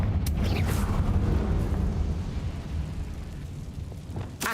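Confringo blasting spell explosion in a wizard video game: a loud burst opening into a broad, roaring rumble that slowly fades over several seconds, with a sharp crack at the end.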